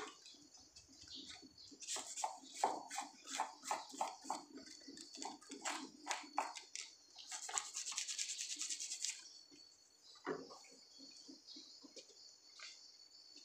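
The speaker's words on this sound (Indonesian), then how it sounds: "kalau pakai sikat ini tidak perlu khawatir merusak daun ya" Small brush scrubbing the leaves of a bonsai coconut palm to clear white pests, heard as rapid rhythmic bristle strokes close to the microphone with short pauses, no talking.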